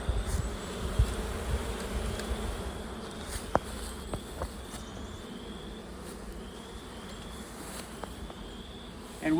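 Honey bees in a queen-rearing starter colony hum in a dense, continuous buzz, with a few louder individual bees darting close by.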